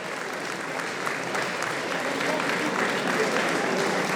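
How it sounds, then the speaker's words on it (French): Sustained outdoor applause from a crowd at a 10 km running race podium ceremony honoring cadet category winners, steady clapping throughout with some voices mixed in. "Applaudissements pour Charlotte Perrin."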